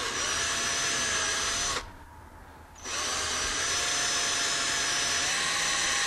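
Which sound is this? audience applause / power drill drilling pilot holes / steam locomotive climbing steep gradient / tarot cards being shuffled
power drill drilling pilot holes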